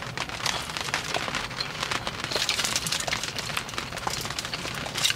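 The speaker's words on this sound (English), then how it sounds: "it's starting to rain" Steady rain patters on surfaces outdoors, a dense, even hiss with scattered louder drops, close and continuous with no talking.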